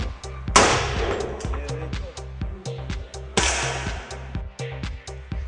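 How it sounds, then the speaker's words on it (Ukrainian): Two loud, sharp sniper rifle shots about three seconds apart at an army shooting range, each ringing out with a long echo, amid lighter rhythmic clicks and clanks. "у цьому тирі армійські новачки вчаться стріляти зі снайперської рушниці"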